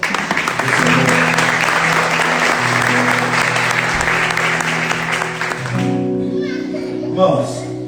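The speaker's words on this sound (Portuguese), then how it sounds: "Vamos aplaudir a palavra do Senhor." A church congregation applauds loudly and steadily for about six seconds during a Portuguese-language sermon, with children's voices mixed in. The clapping then fades out into quieter room noise and voices.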